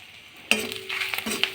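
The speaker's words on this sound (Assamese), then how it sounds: "ধুনীয়াকৈ আমি অলপ দেৰি ভাজি ৰঙালাও আৰু আলু এটাই দি দিম।" After a brief quiet moment, a sudden sizzle bursts up as pumpkin and potato hit a hot pan with panch phoron spices, followed by steady frying and light stirring.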